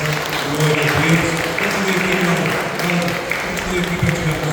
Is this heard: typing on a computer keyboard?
no